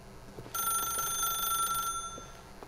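A single telephone ring in the video game The Stanley Parable, a bright electronic bell tone lasting about a second and a half over a quiet background hum.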